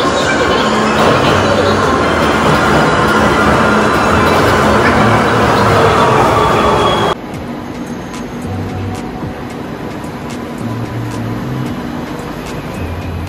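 Kolkata metro train at Maidan station, a loud steady rumble that drops abruptly to a quieter hum with faint clicks midway, like a train running then slowing or the doors closing.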